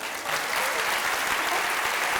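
A live show audience claps for a contestant's basket in an on-stage competition. The applause swells to loud, dense clapping after a brief quieter start and holds steady.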